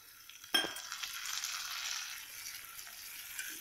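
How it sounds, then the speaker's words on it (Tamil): Tomatoes dropped into a pan of sautéed garlic for a garlic tamarind gravy, hitting with a sudden loud burst of sizzling that settles into a steady, close frying hiss with faint stirring. "சேர்த்துட்டு அதையும் நல்லா வதக்கி விடுங்க"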